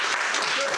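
An audience at an improv comedy show applauds steadily and densely throughout, a broad wash of clapping with no gaps.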